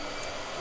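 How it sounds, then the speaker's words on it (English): A blow dryer runs with a steady, faint whooshing hum heard through a webcam, continuous and unbroken for a brief moment. "Blow dryer."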